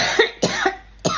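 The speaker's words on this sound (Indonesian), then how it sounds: "Gue sampai batuk loh, sampai batuk dengar berita ini." A person coughs three or four times in short, sharp bursts, close and loud, with brief gaps between them.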